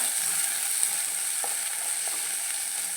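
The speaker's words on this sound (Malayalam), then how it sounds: "ഒരു പച്ചമുളക് അരിഞ്ഞതും കൂടി ഇട്ട് കൊടുക്കാം നന്നായിട്ടൊന്ന് വാടിക്കപ്പെട്ട" Small onions and chopped green chilli sauté steadily in a hot pan of oil for a brinjal chilli curry. A constant, even sizzle with light crackles runs throughout, close up, with no talking.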